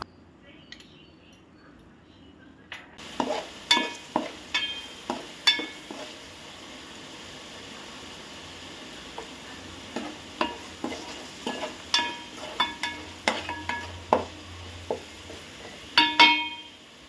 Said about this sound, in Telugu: కొంచెం అల్లం వెల్లుల్లిపాయ పేస్ట్ వేసుకొని బాగా వేయించుకోండి పచ్చిమిర్చి కూడా వేసుకొని బాగా వేగించుకోండి